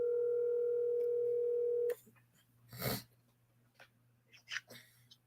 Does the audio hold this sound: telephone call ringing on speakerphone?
yes